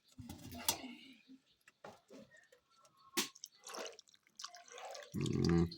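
Water is poured into a pot for boiling bones, with scattered splashes and drips building to a steadier pour at the end, close by in a quiet outdoor kitchen.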